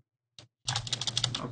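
Fast clicking keystrokes on a computer keyboard come in a short close burst after a single brief tap, clear and alone with no talk.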